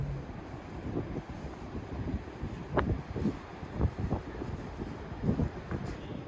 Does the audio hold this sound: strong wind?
yes